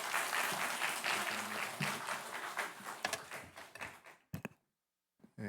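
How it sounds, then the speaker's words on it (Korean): A church congregation applauds to welcome a pastor, a dense burst of clapping that thins into scattered claps and stops, followed by near silence with a couple of faint taps. "나오실 때 큰 박수로 환영해 주시기 바랍니다"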